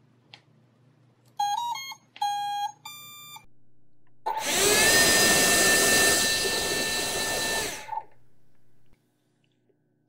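A 50mm 11-blade ducted fan on a 3S 4900KV brushless motor runs at half throttle for about four seconds, giving a loud, steady, close-up whine. Short electronic startup beeps come before it, and the fan spins down at the end.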